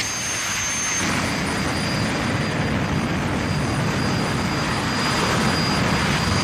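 A jet-engine drag racing car at a drag strip roars continuously, a loud, steady broadband blast with a thin high whine running over it, holding at full power throughout.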